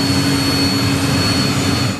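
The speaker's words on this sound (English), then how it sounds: "There goes the plane off on a taxi test." A private jet's engine runs steadily during a taxi test after brake, tire and fuel work: a loud, continuous roar with a sustained high whine, close and unbroken, with no voices over it.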